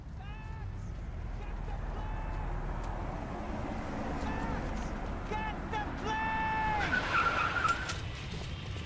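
A car drives hard through a street in the Max Payne 3 game, its tires squealing in repeated skids over a steady engine drone, louder near the end, with the game's music and effects underneath.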